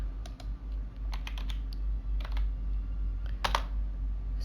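Keystrokes on a computer keyboard as a command is typed into AutoCAD, a quick irregular run of clicks and taps over a steady low hum, close and moderately quiet.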